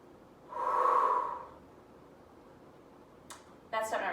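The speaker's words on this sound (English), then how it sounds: "you just probably heard me exhale" One deep, breathy exhale made while bracing for weightlifting rises and fades over about a second. A couple of short breathy sounds follow near the end.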